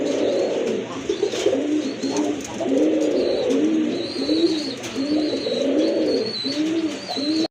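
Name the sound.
pigeons cooing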